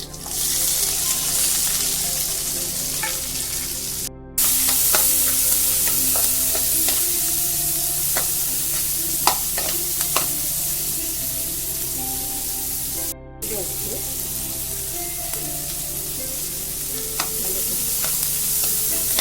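Steady sizzling of onions, curry leaves and green chili frying in hot oil, with occasional stirring clinks and scrapes, continuous and close with no talking.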